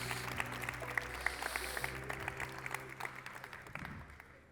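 An audience at a magician's stage show gives a faint, distant round of applause, a steady patter of many hands that fades away near the end.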